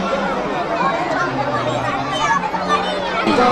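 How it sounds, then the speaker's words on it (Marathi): Constant crowd babble at a school food fair with children's homemade food stalls, many overlapping voices close by with some children's sounds mixed in, steady and moderately loud. "बिर्याणीसाठी जबरदस्त गर्दी आहे."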